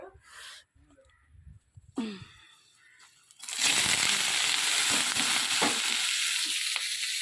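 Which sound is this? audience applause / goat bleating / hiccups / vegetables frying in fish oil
vegetables frying in fish oil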